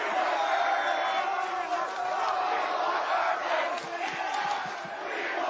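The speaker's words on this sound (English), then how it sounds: "Hey, Coach, they cheering for you" A large crowd of Nebraska football fans roars and cheers continuously, a dense, loud wall of shouting and whooping voices that holds steady throughout.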